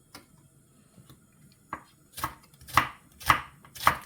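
A knife cuts through an onion on a board in a few soft initial taps, then four crisp, loud chops spaced about half a second apart, with no talking.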